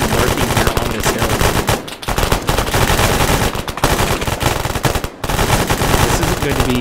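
Sustained automatic gunfire from a machine gun in the video game Arma 3 during a zombie attack on New York City, a loud, dense, continuous rattle with only two brief pauses, no talking.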